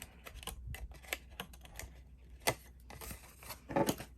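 Paper carton being cut along a score line for a Christmas treat holder, heard as a string of close, crisp snips and scrapes in uneven bursts, with a louder crinkly cluster near the end and no talking.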